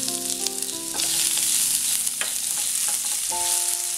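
Ginger garlic paste fries in hot oil in a pan for chana masala. The close, bright sizzle is steady, with a few faint scraping touches and tonal background hum.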